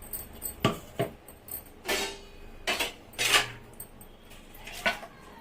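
Sugar powder being transferred into another vessel in a home kitchen: a spoon clinks and knocks against metal pots in a handful of sharp, irregular taps, close and fairly loud, with no talking.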